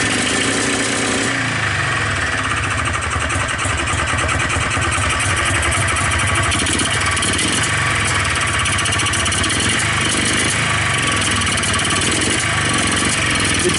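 A Polaris Xplorer 250 ATV fitted with a Yamaha Blaster carburetor idles loud and close with the choke on, a rough continuous engine drone with a slight change in tone after the first second and no pauses.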